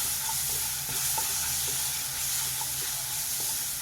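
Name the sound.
frying ground green chili, cumin and garlic paste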